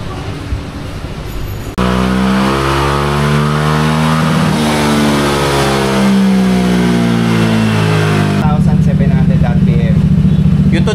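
A Honda ADV160 scooter fitted with a power pipe revs hard on a dyno. The engine roars in suddenly after a quiet start, holds a loud, steady, rising howl, then shifts to a rougher, burbling tone near the end.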